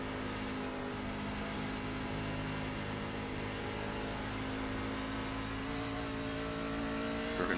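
Several racing truck engines in the iRacing sim at Dover drone steadily together, a dense sustained roar with layered engine tones running continuously throughout, no talk over it.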